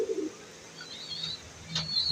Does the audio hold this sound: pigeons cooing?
yes